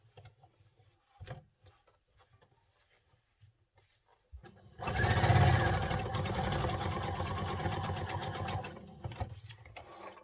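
Sewing machine stitching a welt pocket on a hoodie runs in one steady, close burst of rapid needle chatter lasting several seconds, following a few faint handling clicks.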